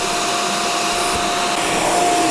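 A renewed Shark Stratos upright vacuum cleaner runs continuously with a steady, loud whirring roar and a thin high-pitched whine, close by.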